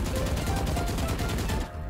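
Rapid automatic gunfire from a weapon in the shooter game VALORANT, a dense continuous burst of shots lasting nearly two seconds before cutting off, loud and close.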